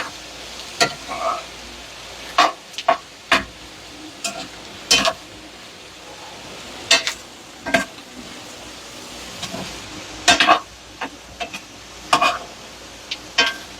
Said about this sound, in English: You can hear it kind of simmering.